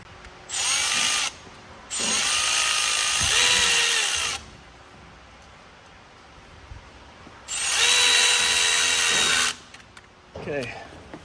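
A power tool tightens an 8 mm bolt on a Ford 6.7 diesel engine in three loud whirring bursts with short pauses between, followed by a brief clatter at the end.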